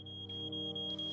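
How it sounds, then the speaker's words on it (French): A household smoke detector going off at night, emitting a steady high-pitched electronic tone broken by regular repeating beeps, fairly faint over a low background hum with no voices. "Le détecteur de fumée s'est déclenché."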